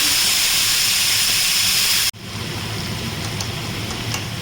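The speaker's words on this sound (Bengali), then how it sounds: "এখন আমি এই যে জিরে ধনে যে পেস্টটা করে রেখেছি সেটা দেবো" A cumin and coriander paste hits a hot pan for a Bengali chhanar dalna, a loud steady sizzling hiss that cuts abruptly, then resumes as a softer continuous frying crackle with occasional pops.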